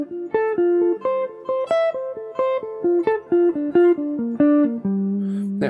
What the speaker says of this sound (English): So the same arpeggio, this played in group of 3, like I wrote in the PDF, sounds like this.